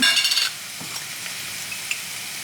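Yellow and green peppers tumble into a hot pan, giving a brief loud sizzle with stirring clatter that quickly settles into a steady, quieter frying hiss.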